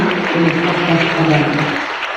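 At a 25th anniversary gathering of the Pesat Nabire foundation, an audience claps steadily in thanks, a dense, even patter filling the room with a low hum beneath it.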